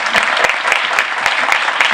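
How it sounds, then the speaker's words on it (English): An audience at a community history panel event claps in a steady, dense round of applause, loud and continuous throughout. "So give him a round of applause."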